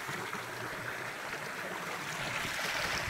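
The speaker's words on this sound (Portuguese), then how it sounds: "Só o barulho da natureza." A small stream on a farm, running over rocks after a day of heavy rain, makes a steady, close rushing and gurgling wash with no break and no voices.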